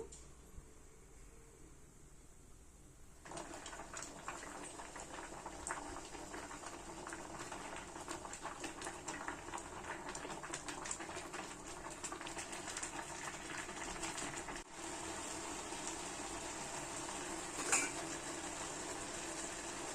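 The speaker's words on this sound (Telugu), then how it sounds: "ఆయిల్, పసుపు, ఉప్పు వేసుకున్న రైస్ ఉడుకుతుంది" Rice boiling in a pot with oil, turmeric and salt, a steady close bubbling hiss that starts abruptly after a few seconds of quiet and continues evenly, with a brief dropout and a faint clink.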